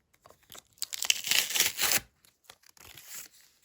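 A collectible packet of cactus cards being torn open, a close, continuous rip with crinkling plastic that lasts about two seconds, then a few short crinkles and rustles as the wrapper is handled.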